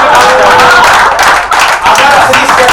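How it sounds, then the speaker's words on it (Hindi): Audience applause at a Hindi kavi sammelan poetry recital, a loud sustained burst of many hands clapping together that briefly dips and then swells again, with no talk over it. "तालियां जिनकी खामोश है बजा देना"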